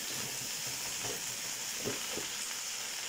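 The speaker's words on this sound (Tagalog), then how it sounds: "At ilagay na rin natin lahat itong gulay natin kasi sabay-sabay lang naman yan maluto." Mixed vegetables frying together in a pan at home, a steady close sizzle with a few soft stirring scrapes, no talk.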